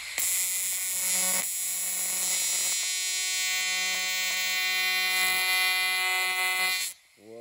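An AC TIG welding arc tacks copper with a loud, steady electric buzz, close and continuous for about seven seconds before cutting off abruptly, with no talking over it.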